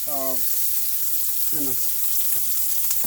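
A small piece of salmon frying in olive oil in a little pan gives a constant bright hiss, close and even, with a couple of brief tonal sounds near the start.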